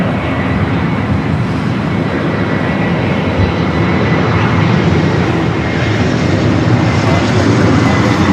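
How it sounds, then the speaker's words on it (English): An Airbus A350-900 arriving from Rome passes at LAX with a loud, steady jet engine roar that holds throughout without a break. "Checking in with the A350-900 coming in from Rome"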